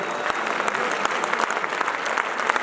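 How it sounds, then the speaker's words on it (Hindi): A standing audience at a large meet-up clapping loudly, a dense continuous wall of applause from a big crowd with steady rhythmic peaks throughout. "तो एक बार चलिए खड़े होकर शानदार ताली बजाइए एक बार जरा"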